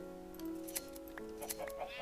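A Minecraft sheep gives a few short, soft bleats in the video game, heard over a steady, calm musical backing.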